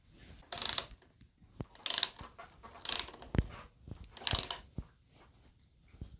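Handguard mounting bolts being tightened on a Yamaha Tenere 700 motorcycle with a ratchet, giving four short, close bursts of rapid metallic clicking separated by pauses and small tool knocks, with no talking.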